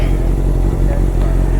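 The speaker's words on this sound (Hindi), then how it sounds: "बाइक थोड़ी सी कर दिया स्टार्ट, हल्का सा वार्म अप हो जाए" An Aprilia GT 800 motorcycle engine idles loud and close while warming up after a start, a steady throbbing rumble with light mechanical clatter and small revs, no talk.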